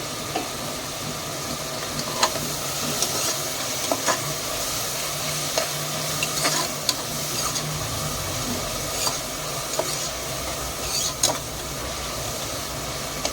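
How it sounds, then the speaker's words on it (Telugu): Onions fried in a pan until brown for a mutton and potato curry, a steady close sizzle running the whole time, broken by frequent short clicks and scrapes of a stirring spoon, with no talking. "ఆనియన్స్ అనేది బ్రౌన్ కలర్ వచ్చే వరకు ఫ్రై చేసుకోవాలి"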